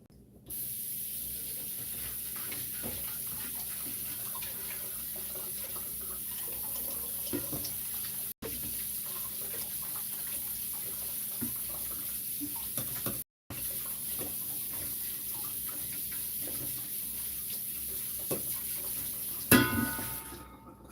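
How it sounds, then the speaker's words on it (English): A kitchen tap sprays water steadily into a cooking pot as it is rinsed, a constant close hiss lasting about twenty seconds with two brief cutoffs and a splashy clatter near the end. "Okay, so I just rinsed the same pot out."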